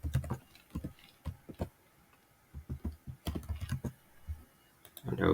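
Someone types a username and password on a computer keyboard, with close, crisp keystrokes in quick bursts separated by short pauses.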